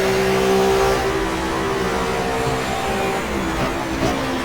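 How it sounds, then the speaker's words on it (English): 1994 German Touring Car Cup cars, Audis and BMWs, race at Avus in the GTR2 video game; engines roar loudly and steadily as cars accelerate past, with rising and falling revs. "Audi coming past us"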